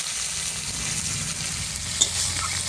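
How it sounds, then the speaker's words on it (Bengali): Chopped onions sizzle and fry in hot oil spiced with whole garam masala and cumin, a steady close crackle with faint stirring and one brief clink. "এবার কুচানো পেঁয়াজগুলো দেবো।"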